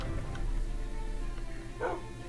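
Minecraft dog giving a few short, soft barks, quiet and spaced out against faint game background sound.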